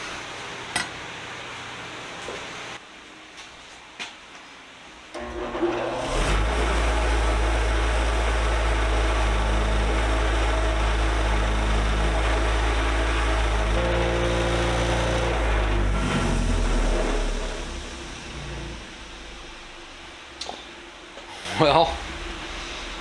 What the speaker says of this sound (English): Let's take it to the wire wheel.